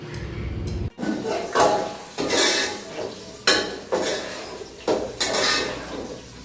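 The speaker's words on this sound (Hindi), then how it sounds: "खुले डिश में, आप बड़ी कोई डिश हो उसमें चावलों को फैला दें।" Cooked rice being spread out in a large open dish, with repeated scraping and clinking of a utensil against the dish in uneven strokes, close and fairly loud.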